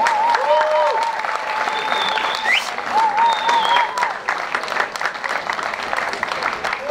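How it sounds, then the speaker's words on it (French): Loud, sustained applause fills a hall at a golf gathering, with whistles and shouts cutting through the clapping before it thins out. "je vous prie d'applaudir très fort"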